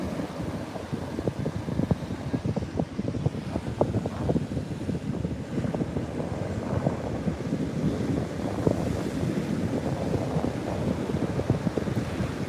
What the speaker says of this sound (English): Because these waves are crazy.